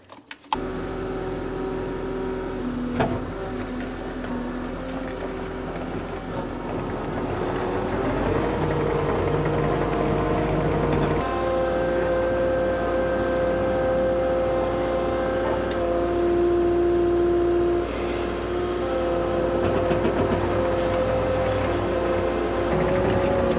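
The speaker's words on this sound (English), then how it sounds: "this is my Kato track loader, 65 horsepower Kubota engine" A Kato track loader with a 65 horsepower Kubota engine idles and runs steadily nearby, a loud continuous diesel drone with a shift in pitch partway through, and no talking over it.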